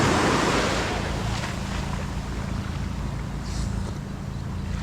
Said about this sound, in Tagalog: Ang ganda ng dagat dito kahit gabi.